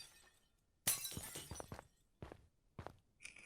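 Glass shatters in the DayZ video game, one loud crash followed by a scatter of tinkling shards and several more breaking hits. The hits are close and come in irregular bursts.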